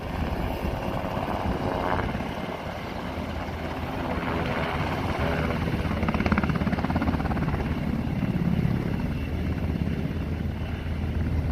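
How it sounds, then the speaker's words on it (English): Helicopter drawing water from a golf course in California, its rotor and engine a steady, loud broadband drone throughout, swelling slightly toward the middle and end with no voices. "This helicopter had to take water from a golf course in California."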